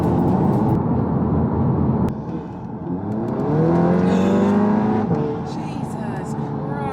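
A Mk3 Audi TT engine revs hard under turbo boost, rising and swelling through the middle, then easing back. It sounds close and loud from inside the car, with a voice briefly heard.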